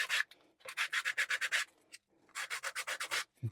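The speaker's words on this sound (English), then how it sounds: "Again, this is 120 grit paper." Rhythmic strokes of 120 grit sandpaper on a wooden cigar box dulcimer neck, close and crisp, in two quick bursts of back-and-forth rubbing separated by a short pause, with no voices.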